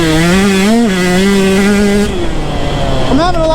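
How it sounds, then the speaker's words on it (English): KTM 150 two-stroke dirt bike revving hard, a loud, buzzy, close engine note that rises and wavers, briefly drops and then climbs again. "I'm having a lot of fun riding the KTM 150 again"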